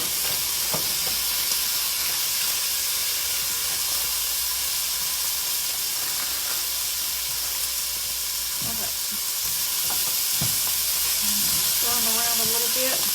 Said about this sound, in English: we have our pancetta sizzling away here